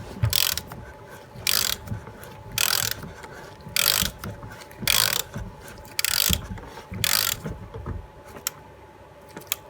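A ratchet wrench tightens the rear brake caliper on a BMW F46, giving repeated bursts of rapid close-up clicking separated by short pauses, with no talking.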